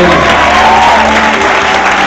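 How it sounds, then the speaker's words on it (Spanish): A church congregation applauds during a Sunday morning service, a dense, steady wash of clapping with a few raised voices and a faint held tone running underneath throughout. "Vamos a dar un aplauso al Señor en esta mañana."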